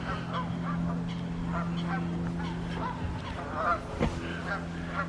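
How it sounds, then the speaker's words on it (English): Many Canada geese honk repeatedly in an overlapping chorus in a park, fairly near, over a steady low hum. "look at the Canada geese"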